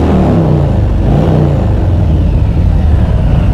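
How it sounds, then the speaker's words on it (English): A Harley-Davidson motorcycle engine is revved hard in a rev bomb, a loud, close, sustained deep roar that holds steady from start to finish without any voices. "this is called a rev bomb. Guys on Harleys like to do it in like tunnels or under bridge overpasses"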